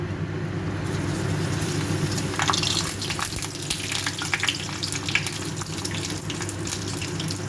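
Papads frying in hot oil for a vegetarian-day recipe, a steady, dense crackling sizzle with faint bubbling, fairly close and continuous, with no talking.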